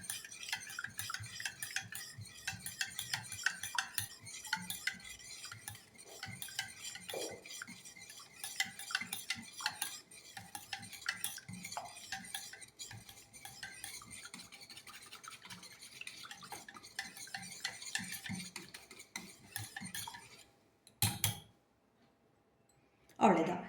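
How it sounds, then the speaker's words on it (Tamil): Aloe vera ice cream mixture being whisked in a bowl, a steady run of quick metallic scraping and clinking strokes close by that stops near the end. "இது விஸ்கில் நல்லா மிக்ஸ் பண்ணிக்கோங்க"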